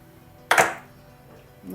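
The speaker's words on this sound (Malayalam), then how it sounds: "നമുക്ക് അടുപ്പ് കത്തിക്കാം" A kitchen stove is lit before roasting coconut for a curry: one sudden sharp click-burst that flares and then fades over a fraction of a second, followed by quiet.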